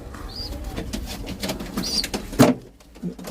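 A young pigeon with a defective leg coos softly nearby with low, throaty calls, alongside a few scattered bumps and rustling noises.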